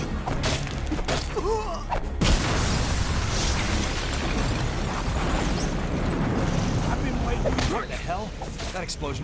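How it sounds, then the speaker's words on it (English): In the Watchmen Rorschach video game, an explosion in a shower room sets off a deep sustained roaring rumble that fills the mix for several seconds, with a game character speaking faintly before it. "That explosion came from the shower room."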